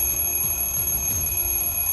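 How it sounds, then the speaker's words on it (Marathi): An alarm clock rings with a steady, continuous electronic tone at a constant level, alone with no voices. "वाजतोय अलार्म, आता दाबू घड्याळाचं बटन."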